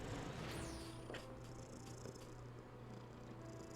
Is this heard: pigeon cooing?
no